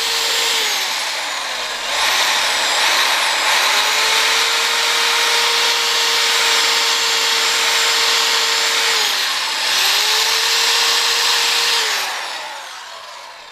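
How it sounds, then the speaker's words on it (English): Small wire brush scrubbing oxidized aluminum out of a motorcycle wheel during an FZR restoration, a loud steady power-driven whir in two long bursts with a brief dip between, no talking. "I've got a real small wire brush. I can get some of that material out of there, because that's all oxidized aluminum."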